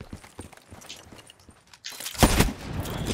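Gunfire in Black Ops 3 gameplay: scattered light clicks and taps, then a loud sudden burst of shots and crackling impact noise in the final second and a half.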